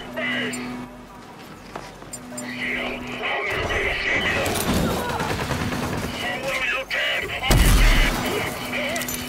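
Grenade blasts and gunfire in the Rage 2 video game grenade tutorial, with several loud bursts, a heavy explosion near the end, and game music and effects throughout.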